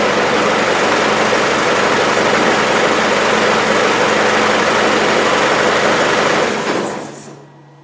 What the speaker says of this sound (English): Now, I haven't got an air cleaner on it, so it's a bit noisy